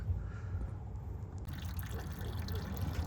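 Transmission fluid is pumped into a Porsche 997.1 Turbo Tiptronic gearbox with a steady liquid gurgle and trickle under a constant low mechanical hum, close and continuous.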